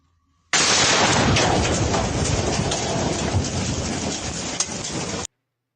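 A missile explodes on a road close to the camera with a sudden, very loud blast that continues as a harsh roaring rumble and debris noise for several seconds before cutting off abruptly.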